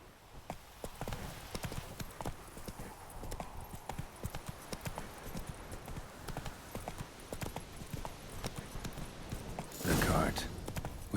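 Horse hooves clip-clop in a steady walking rhythm in The Witcher 3, close and moderately loud against game ambience, with a louder burst of movement near the end.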